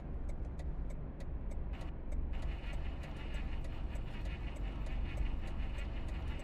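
A car engine pulls away in first gear, a steady low rumble that stays fairly faint with light ticking on top, and no one speaks over it.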